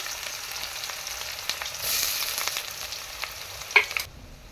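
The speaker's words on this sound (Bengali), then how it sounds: "তাতে দিচ্ছি পেঁয়াজ কুচি" Chopped onions frying in hot oil with bay leaf, cinnamon, cloves and cardamom for a mutton curry, a steady close sizzle with a brief louder hiss midway and a sharp clink near the end.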